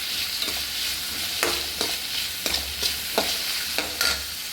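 Vegetables frying in hot oil in a pan while corn rice is made, a soft continuous sizzle broken by repeated stirring scrapes and clacks at a loose, uneven rhythm, close by.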